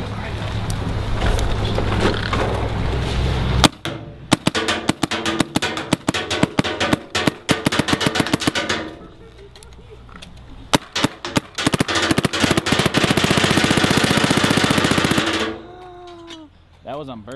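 An Empire Defender paintball marker fires outdoors in rapid bursts of sharp pops, with brief pauses between strings of shots and a voice heard around them.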